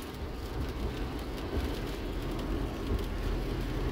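Steady rain falling on a road at a seaside parking area, a continuous broadband wash of drops that stays even and moderately loud throughout, with no voices.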